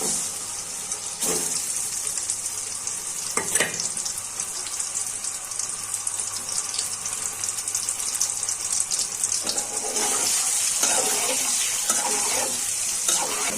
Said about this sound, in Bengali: ডিমগুলো গরম তেলে ভেজে নিচ্ছি